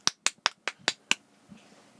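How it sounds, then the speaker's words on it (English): Six sharp claps in a quick even run, close and bright, followed by a faint softer tap and near silence. "She clapped her hands."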